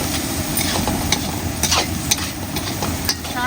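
Curry leaves and onions frying in a pan for a spicy egg fry, a dense steady sizzle with spoon scrapes and light clinks against the pan, close and fairly loud.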